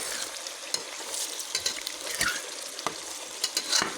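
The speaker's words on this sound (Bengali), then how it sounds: "সবগুলো ভালো করে নেড়ে নেব।" Duck meat and garlic are stirred in a frying pan, with a steady close sizzle and irregular scraping and clacking of the spoon throughout.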